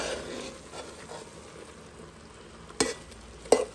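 Shrimp and eggs beginning to cook in a pot give a soft, steady sizzle, broken by a couple of sharp clinks near the end, with no talking.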